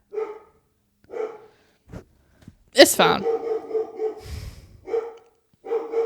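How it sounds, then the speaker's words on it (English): A dog barks in short, loud bursts separated by pauses, with a person briefly speaking between the barks. "She's not going to stop barking."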